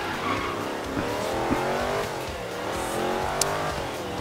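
Car engine in Forza Horizon 3 droning steadily under acceleration with shifting revs, moderately loud and close, with a couple of brief sharp bumps or tire noises.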